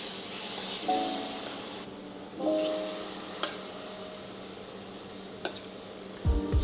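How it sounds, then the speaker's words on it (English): Marinated lion's mane mushrooms are laid into a hot pan and sear, each placement bringing a burst of hiss that settles into a soft, steady sizzle, with a few clinks of utensils. "it's time to give them a quick sear and then we'll put them on the bun"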